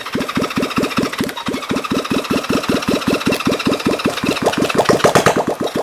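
A vintage Honda CB350 motorcycle engine catches and runs close by, loud rapid regular firing pulses that quicken and grow rougher toward the end.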